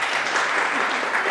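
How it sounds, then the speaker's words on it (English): An audience claps together at a talk, a dense, even wash of applause that holds steady at moderate loudness for the whole moment. "Round of applause."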